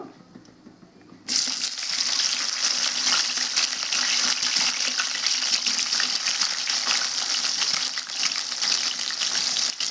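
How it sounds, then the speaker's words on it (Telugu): Bitter gourd pieces tipped into heated oil set off a sudden, loud, dense sizzle after a quiet start, holding as a steady close frying roar to the end. "ఆయిల్ అయితే హీట్ అయిందండి నేను కాకరకాయ ముక్కలు వేస్తున్నాను"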